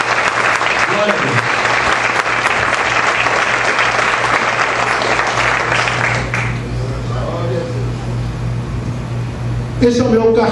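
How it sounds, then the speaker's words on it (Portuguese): Loud, dense applause from a church congregation during an evening service lasts about six seconds, then thins and fades as a low hum remains and a voice starts speaking. "Você pode aplaudir Jesus nessa noite por isso?"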